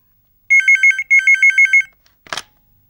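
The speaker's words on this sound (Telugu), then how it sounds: "ఫోన్ మోగింది" A telephone rings loudly in two trilling electronic bursts, each made of rapid repeated pulses, followed by a short clatter as the receiver is picked up in a quiet room.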